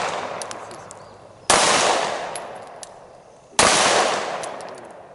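Two loud, sharp gunshots fired at shooting targets on a range, a few seconds apart, each with a ringing decay, plus a few faint clicks between them.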